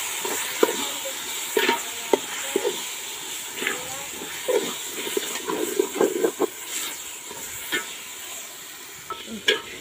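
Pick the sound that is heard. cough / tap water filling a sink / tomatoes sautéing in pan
tomatoes sautéing in pan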